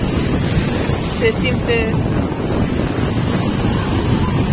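Strong wind and rough sea waves at Sunny Beach make a constant loud roar with microphone buffeting, while a few brief voices break in faintly.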